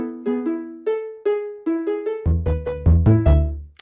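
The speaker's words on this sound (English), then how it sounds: "just Dragon Ball Z theme doorbell" Dragon Ball Z theme played as a doorbell tune on Minecraft note blocks: a bright plucked melody of quick, separate notes that is joined by deeper bass notes partway through, with no voices.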